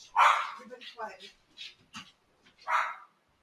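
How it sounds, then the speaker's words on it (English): Dogs barking indoors in short, uneven bursts, fairly close and moderately loud, with quiet gaps between barks and no one talking over them. "Are those the dogs from the fireside chats?"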